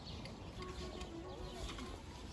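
Young pigeons on their first training flights, giving faint, scattered coos and soft calls over a steady background hiss, with no talking.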